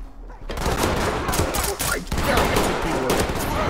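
Rapid automatic gunfire in Ready or Not, a continuous loud fusillade of friendly-fire shots lasting several seconds with a brief dip midway.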